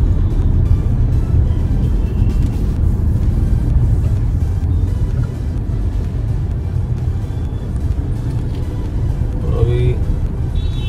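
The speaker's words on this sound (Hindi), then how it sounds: "देखिए ये ट्रैफिक का ऐसी हालत है यहाँ पे अभी लखनऊ में।" Dense city road traffic in Lucknow, a continuous low rumble of engines and passing vehicles heard from inside a moving vehicle, with someone talking over it.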